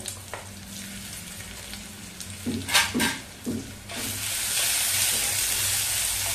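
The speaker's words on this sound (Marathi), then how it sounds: "चांगला मसाला परतवून घ्यायचा आहे तेलामध्ये." Ground spice masala fries in hot oil with cumin seeds, a few stirring scrapes giving way to a loud, steady sizzle up close, no one talking.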